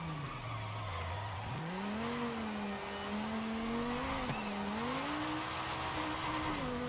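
Tires skid and squeal continuously over a steady engine drone as a race car in Forza Horizon 5 slides through corners, the squeal pitch wavering up and down, loud and close throughout.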